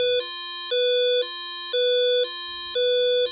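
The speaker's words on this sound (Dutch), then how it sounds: "Om het alarm te stoppen, druk je weer tegelijkertijd knop A en B in." A micro:bit-programmed room door alarm beeps in a repeating two-tone pattern, alternating high and low pitches about every half second, loud and steady with no voices.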